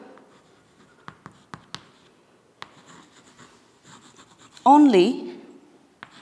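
Handwriting on paper during an English class lesson on formal letters, with sparse sharp pen taps and faint scratchy strokes near the microphone, as a teacher speaks briefly in the middle.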